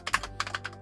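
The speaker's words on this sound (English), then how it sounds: "It's Mario teaches typing on the Famicom keyboard." Keys tapped on a Famicom keyboard while playing Mario Teaches Typing, a handful of quick, fairly close clicks coming in an uneven rhythm with no voices over them.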